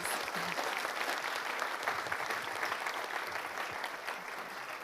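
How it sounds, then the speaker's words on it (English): A lecture audience applauds for a speaker after a humanities talk, a sustained full round of many hands clapping that stays loud throughout and tapers only slightly near the end, with no speech over it. "Let's give Susan a round of applause."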